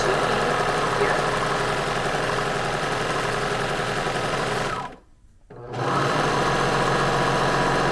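A sewing machine finishes fabric edges on the side seams of a plus-size sundress skirt, running with a fast, steady mechanical hum. It pauses briefly partway through, then starts up again.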